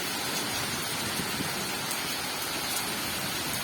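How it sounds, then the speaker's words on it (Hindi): Heavy storm rain pours down in a dense, unbroken hiss, a steady loud wash of water with no talking. "इतनी तेज बारिश हो रही है ना गाइस, सच में इतनी तेज बारिश"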